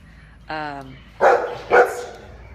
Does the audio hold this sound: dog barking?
yes